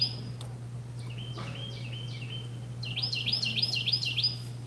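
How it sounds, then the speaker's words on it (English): Several birds chirp and call outdoors, with a run of fast, bright, repeated notes that grows louder toward the end over a steady low hum. "Birds are being very loud."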